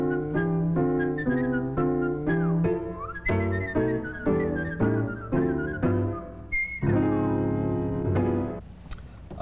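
A melodic jazzy tune is whistled alone, clear and close, phrase after phrase with brief pauses between notes.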